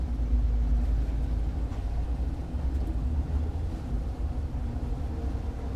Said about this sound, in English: I'm just going to do some transverse thrust and spin the boat to starboard